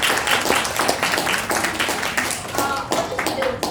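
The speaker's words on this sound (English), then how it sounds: "Big applause for Toastmaster Nema." Room of people clapping at a Toastmasters meeting in Vietnam, a steady patter of applause with individual claps standing out, moderately close, voices faintly underneath.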